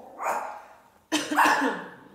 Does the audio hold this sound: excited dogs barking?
yes